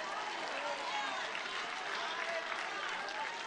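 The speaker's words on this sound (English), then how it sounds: "Stand up and give the Lord a clap offering" A church congregation claps a standing offering to the Lord, a faint, continuous wash of many hands mixed with voices singing or calling out over it.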